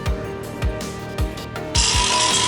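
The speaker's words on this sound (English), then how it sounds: "our workers are hard at work grinding away at our newest line of paper boat" Workers grinding the rough shape of a paper boat, with repeated heavy thumps roughly every half second, then a loud, steady high grinding hiss that kicks in and runs to the end.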